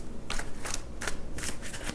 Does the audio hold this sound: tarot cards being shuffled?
yes